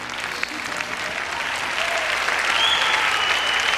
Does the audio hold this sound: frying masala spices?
no